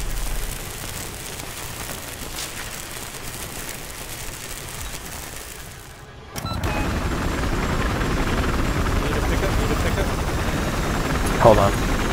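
A transport helicopter in the video game Battlefield Hardline: steady rotor drone hums in the background, a constant rough wash of noise that swells louder partway through.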